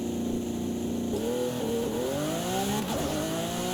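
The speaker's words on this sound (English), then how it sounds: "Lamborghini Aventador has one of the coolest launch control sounds ever." A Lamborghini Aventador in the racing game Forza Horizon 5 revs its engine. The pitch climbs and dips in smooth sweeps under a constant background hum, and no voices are heard.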